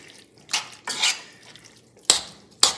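Cooked vegetables stirred into a pot of green curry, a few sharp spoon clinks and scrapes against the pot separated by quiet pauses, close by, with no talking.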